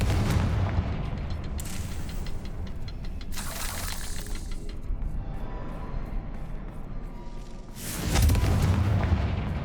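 A Confringo spell explosion in Hogwarts Legacy bursts in a few booming blasts, with a loud broadband eruption near the end over a rumbling background.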